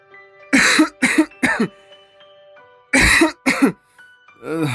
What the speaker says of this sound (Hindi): ये कैसी अजीब सी खांसी उठ रही है मेरे शोहर को।